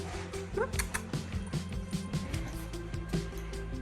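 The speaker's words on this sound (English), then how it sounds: "you hear a little bit of whining" A dog whines and yips in short, breathy bursts, with light clattering and shuffling noises close by.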